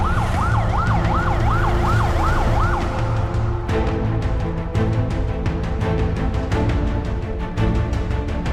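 An ambulance siren wails in a rising and falling pattern near the start, then cuts to a steadier hi-lo tone with heavy background vehicle noise, loud and close, without talk.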